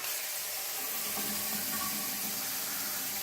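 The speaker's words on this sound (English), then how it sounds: "Here's the other faucet." A newly installed faucet runs water into a sink in a freshly plumbed bathroom, a steady close rushing splash that holds constant throughout with no talking.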